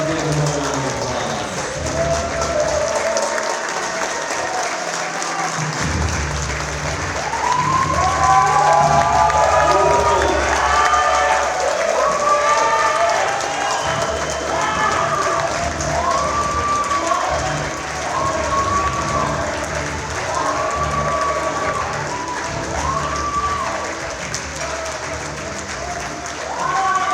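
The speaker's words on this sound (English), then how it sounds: "Let's stand and give him a round of applause." A gala audience at a Korea peace conference stands and applauds to welcome a congressman, a long swell of clapping and cheers from a large crowd, with a voice speaking over the applause as it continues.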